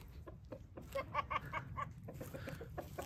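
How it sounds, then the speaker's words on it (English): Hens in a covered coop on a snowy day cluck softly in short, irregular bursts, close by and fairly quiet. "let's go check on the chickens."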